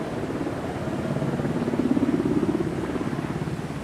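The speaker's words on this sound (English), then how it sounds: "I hear helicopters, but I don't see any." Helicopters rumble at a distance in a steady, low, pulsing drone that swells slightly and then eases.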